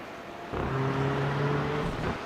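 Racing cars in a sim racing game at Brands Hatch pass by, a loud steady engine drone with a sudden rise in level and sustained whine as they run over the kerbs.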